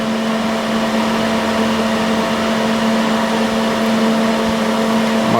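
Steady, loud, continuous drone of a Chinook NT 12S furnace's fan running before ignition, with an unchanging whirring hum and no break.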